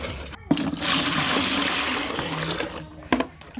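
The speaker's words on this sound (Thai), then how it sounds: "กรองเอาแต่น้ำแล้วก็เทผสมกับน้ำสาวข้าวในถังได้เลยค่ะ" Filtered water from soaked mangosteen peels poured into a bucket of rice-rinse water, a steady splashing pour that runs for a few seconds, then stops, with a brief knock at the start and near the end.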